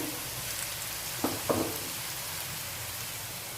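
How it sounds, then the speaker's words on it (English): Onions and chopped vegetables fry in a hot wok for cabbage Manchurian, giving a steady soft sizzle with two brief stirring clatters partway through and no talking. "allowing it to well fry for a few seconds"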